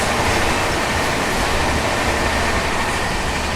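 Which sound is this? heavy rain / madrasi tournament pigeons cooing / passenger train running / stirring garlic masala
passenger train running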